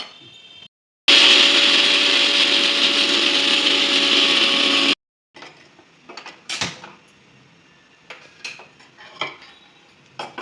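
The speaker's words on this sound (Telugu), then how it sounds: "ఎండు కొబ్బరి ముక్కలు నాలుగైదు వెల్లిపాయ రెబ్బలు రెండు లవంగాలు చిన్న ముక్క దాల్చిన చెక్క వేసుకొని మిక్సీ పట్టుకోవాలి" An electric mixer grinder blends dry coconut pieces, garlic cloves, cloves and a bit of cinnamon stick in a loud, steady high whir for about four seconds, followed by close clinks and knocks of the jar and utensils.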